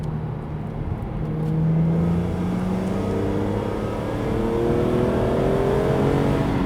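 BMW Z4 M Roadster accelerating on an open road, its engine note rising steadily through the revs in smooth climbing sweeps, loud and close with wind and road roar underneath, no talking.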